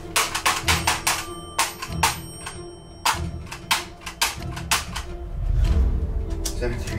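Repeated phone ring tones on an outgoing call, a rapid series of bright regular bursts with a noisy, rumbling stretch near the end, heard alone without talk.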